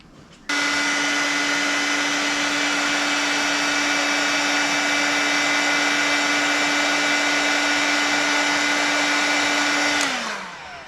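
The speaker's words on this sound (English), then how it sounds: "Maybe we try a heat gun." A heat gun blows on a Honda car's air intake cover, a loud steady whirring hiss that switches on abruptly, holds a constant pitch, then winds down near the end.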